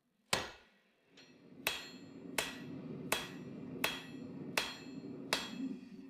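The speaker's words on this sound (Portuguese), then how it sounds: "Aqui, para ajudar a acelerar o desenho do tang, eu estava martelando no chifre" A hammer strikes steel on the round horn of an anvil while drawing out the tang of a Damascus katana, ringing out in seven sharp, evenly spaced blows, close and loud with no voices.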